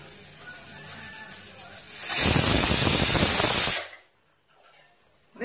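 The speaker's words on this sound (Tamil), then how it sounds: "இப்போ இதுல லைட்டா எண்ணெய் ஊத்திக்கலாம்" Oil poured onto appam in a hot pan sets off a loud, sudden hissing sizzle that lasts about two seconds and then cuts off, following a quieter background.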